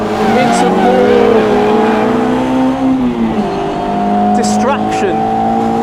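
Lotus Elan 26R race car cornering through fast bends on a track, its engine droning steadily with pitch rising and falling as the throttle is eased in and out, loud and close, with someone talking over it.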